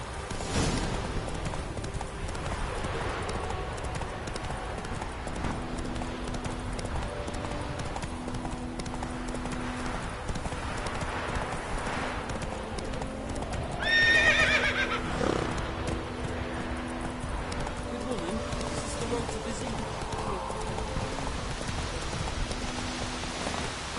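Hooves of a horse clip-clop steadily throughout in The Witcher 3, with a brief whinny midway under a low musical backdrop and faint rain.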